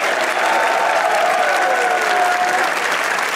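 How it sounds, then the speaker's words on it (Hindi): A studio audience at a Pakistani comedy talk show claps continuously and loudly, a dense steady wash of applause with no talking over it. "तालियां बजाइए"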